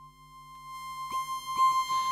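A synthesizer lead preset called Gate to Edinburgh plays a pure sustained tone, then a few quick gliding chirps layered on top, clean and fairly quiet.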